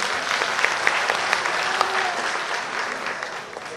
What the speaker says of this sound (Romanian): vă rugăm frumos aplauze